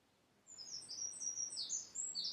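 Birds sing in a park: after a brief quiet start, a soft, steady stream of high twittering chirps continues, faint and with no talk.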